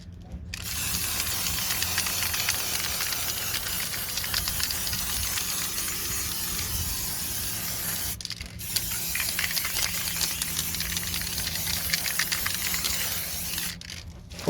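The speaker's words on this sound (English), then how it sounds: "Put your second coat of lacquer on." Lacquer hisses from a spray can onto a car wheel being refurbished outdoors, two long steady bursts of spray broken by a brief pause, close and fairly loud.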